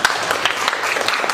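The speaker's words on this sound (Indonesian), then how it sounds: "Tepuk tangan dulu." A classroom audience gives a short burst of applause, loud and close, lasting only a moment.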